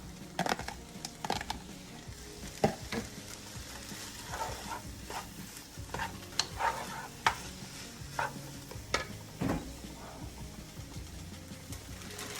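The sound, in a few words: adding and stirring kale into lentil soup in pot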